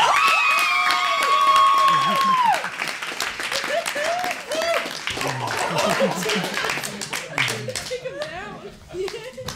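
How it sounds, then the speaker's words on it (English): A comedy club audience claps and cheers loudly for several seconds, with shouts mixed in, while a voice speaks over the applause as it fades. "Big round of applause for Matt Moran."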